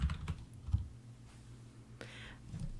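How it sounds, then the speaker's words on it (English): Quick, light taps on a computer keyboard as a search term is entered, faint and close, in short bursts with no talking. "And we're going to type in barbecue."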